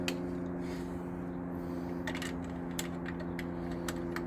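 A ratchet wrench tightens an intake plenum bolt on a 3800 car engine, giving quick clicking bursts over a steady mechanical hum, close and fairly quiet.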